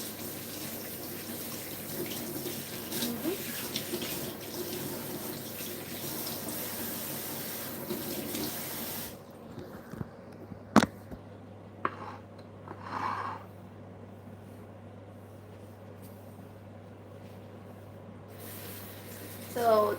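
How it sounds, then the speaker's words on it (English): Running tap water over hands being washed at a sink, a steady broadband rush for the first nine seconds, then stopping, followed by a few faint clicks and a low hum. "just I am washing my hands"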